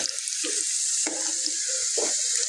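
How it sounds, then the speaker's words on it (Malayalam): Mango pieces frying in oil for a sweet pickle, a continuous bright sizzle close by, with a few soft stirring scrapes and bubbling bursts. "ഇപ്പോൾ വറക്കട്ടെ. മാങ്ങ വറക്കുക."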